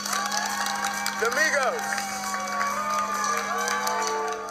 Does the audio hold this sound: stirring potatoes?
no